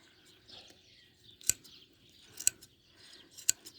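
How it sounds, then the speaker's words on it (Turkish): Shears snip sharply three times at roughly one-second intervals while shearing a sheep's wool, crisp metallic clicks against a quiet background with faint rustling. "Babam da koyunumuzun tüylerini kesiyor."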